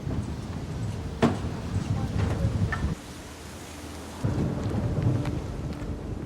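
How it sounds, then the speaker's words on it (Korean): Thunder rolling over a quiet village as a storm approaches, with a sharp crack early on, then rumbling and steady rain hiss that drop away briefly before returning. "고요하던 마을에 폭풍이 몰려오고 있습니다."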